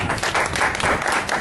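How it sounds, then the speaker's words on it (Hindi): Audience clapping at a lucky-draw event in Gulbarga, a dense continuous burst of applause that holds steady throughout, fairly loud and close, with no clear speech over it. "ताली, एक ताली।"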